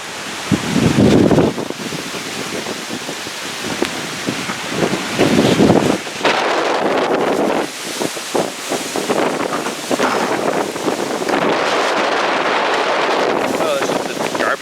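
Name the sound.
strong wind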